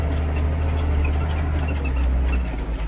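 Old-school 6290 tractor engine runs steadily during winter wheat and oat planting, a loud, continuous low rumble with a mechanical drone and no break in the sound.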